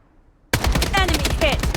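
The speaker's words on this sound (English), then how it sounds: "Taking fire!" Gunfire in the Blood Strike video game starts abruptly after a half-second of silence, a loud, dense barrage of rapid shots that keeps up to the end.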